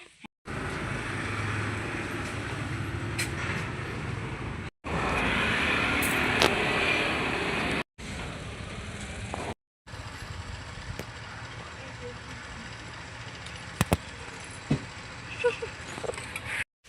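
A scooter ride, with steady road and engine noise rumbling in long stretches cut by short breaks, and a few sharp clicks and knocks near the end.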